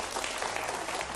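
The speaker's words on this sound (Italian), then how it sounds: "Un bel applauso!" A studio audience at an Italian comedy show claps in a brief, steady burst of applause, close and alone.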